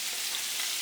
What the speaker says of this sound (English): So it's sizzling.